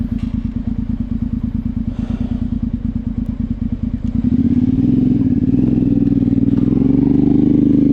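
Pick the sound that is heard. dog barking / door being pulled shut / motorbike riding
motorbike riding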